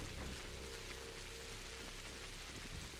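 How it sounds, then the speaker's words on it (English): Steady rain patters down in the game Pathologic, a soft, even hiss of falling drops without pauses or voices, fairly quiet throughout. "This rain is adequately reflecting my mood right now."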